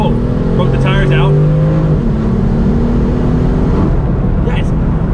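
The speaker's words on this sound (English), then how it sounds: "Oh, broke the tires out." A BMW M4 accelerates hard with its tires breaking loose, the engine note loud and close, climbing through the revs and then dropping, while someone talks over it.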